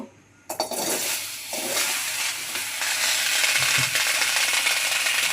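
Water is poured into a pot of taro being boiled for cooking, beginning with a clunk and then a steady rushing splash that builds and continues close up, without any talking.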